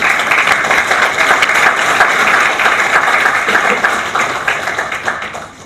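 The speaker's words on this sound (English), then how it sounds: "let us once again offer a round of warm applause to express our sincere gratitude" Audience applause for the speakers at a formal ceremony, a dense, steady wash of clapping from a large crowd that carries evenly for several seconds and thins out slightly toward the end.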